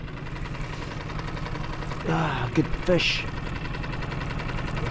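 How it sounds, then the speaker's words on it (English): A fishing boat's engine drones steadily throughout, a constant low mechanical hum under a brief burst of excited talk in the middle. "Turn this engine off"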